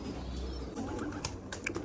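Pigeons kept by a bird fancier coo softly and continuously, a low murmuring from nearby birds with faint chirps over a steady background.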